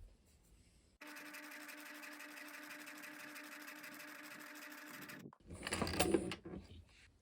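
A sewing machine stitches a lapped seam in leather, running steadily and evenly at close range for about four seconds, then stopping, followed by a brief louder rustle or clunk.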